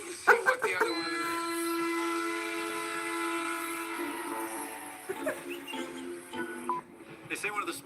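A train sounds a long, loud, sustained horn close to a track beside an outdoor television taping, then fades into rumbling clatter with scattered voices and noise over the last few seconds.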